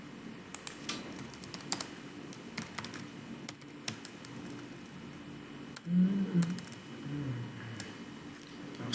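Keys clatter on a computer keyboard in quick irregular bursts of clicks, fairly close and moderately quiet, with a brief low thump partway through.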